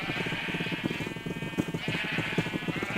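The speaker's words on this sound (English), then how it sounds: "It's just sheep everywhere." Dense chorus of overlapping sheep bleats in Minecraft, many animals crowded together, pulsing in rapid repeated bursts, close and continuous with no talk.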